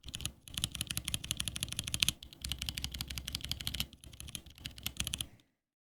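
Zealios tactile switches on a mechanical keyboard are typed on, giving rapid, dense bursts of close, crisp clacking with two short pauses before the keystrokes stop abruptly into silence.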